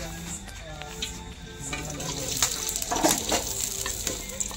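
Green chillies and curry leaves fry for biryani in a pot on a wood-fired stove, a steady soft sizzle with scraping stir strokes and crackles building toward the end.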